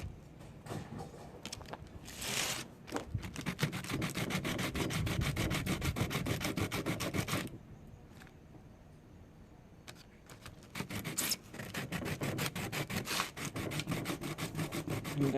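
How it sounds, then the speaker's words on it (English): 3M power sanding discs rub across wood in rapid rhythmic back-and-forth strokes, a close, gritty scraping that runs in two long bursts separated by a quieter pause of a few seconds. "I'm currently using power sanding discs from the company 3M, and there's 7 discs in here, and it says it works on wood"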